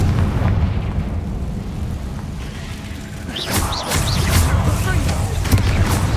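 Spell explosions from Hogwarts Legacy gameplay, Confringo and Bombarda blasts, land as repeated booms and bursts over a dense game soundtrack, with a cluster of sharp pops near the end.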